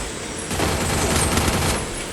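Automatic gunfire in the Free Fire battle royale mobile game, a sustained loud burst of rapid shots lasting well over a second after a short lead-in of game ambience, with no voices.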